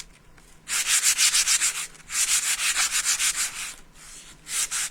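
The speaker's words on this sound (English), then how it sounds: "Sandpaper." Coarse-grit sandpaper rubbed by hand over a home decor piece, in close, rhythmic back-and-forth strokes grouped into several runs separated by short pauses, with no talking.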